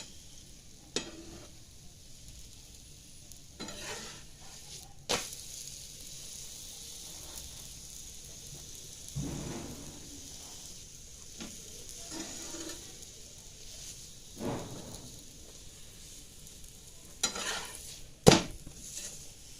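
Puran poli flatbread roasting in oil on a pan, a faint steady sizzle broken by occasional light scrapes and clinks of a utensil, with no voices.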